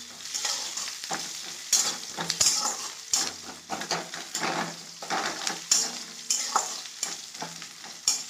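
Food frying in a pan for a home-cooked meal of mung dal with bottle gourd, steady sizzling with repeated stirring and clinks of a utensil against the pan, close and continuous with no talk.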